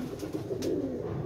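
A pigeon coos softly nearby, a couple of low murmuring calls over a quiet background hum, faint and unaccompanied by speech.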